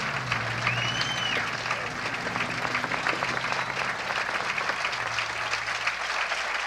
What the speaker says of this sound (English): more applause here at 18 because it's Kathy Whitworth coming up